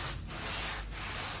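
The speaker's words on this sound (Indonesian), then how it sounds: "Apabila kita menggunakan tatakan amplas seperti ini," Hand sanding with a sanding pad and sandpaper, loud close rasping strokes rubbing back and forth in a steady rhythm, about two passes, with no talk.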